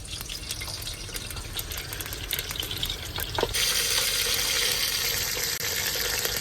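Water poured into a cooking pot in a truck kitchen: steady sizzling of hot spices and garlic, then a sudden louder, broad rushing splash as the water goes in, continuing to the end, close.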